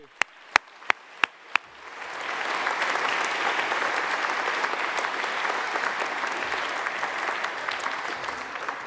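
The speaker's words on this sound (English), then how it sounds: "I think we should give another round of applause there" A few sharp, isolated claps lead into sustained, full applause from the audience at a graduation and prize-giving ceremony, which holds steady for several seconds.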